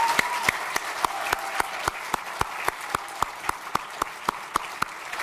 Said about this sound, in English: So a round of applause for our future athletes here.